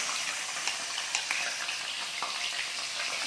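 Chopped shallots sizzle after going into hot oil in a pan for a vegetable curry, making a steady, soft crackling hiss with faint pops scattered through it. No one speaks.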